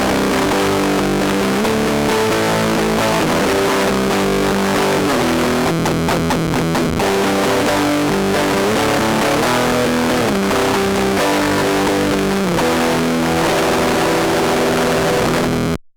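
Guitar run DI through a FruitFX Melon Cube fuzz pedal, producing a loud, dense, blown-out speaker-like fuzz as a steady stream of distorted notes and chords with no pauses.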